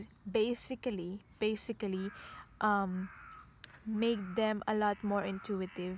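Crows caw outside in a garden, repeated harsh calls scattered through the clip behind a person talking close by.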